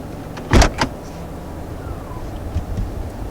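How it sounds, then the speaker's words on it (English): Electronic parking brake on a 2020 Toyota Corolla engaging automatically, a short sharp mechanical clunk followed by a second quick click, close inside the cabin over a low idle hum. "that sound you may have heard was the sound of the electronic parking brake automatically engaging"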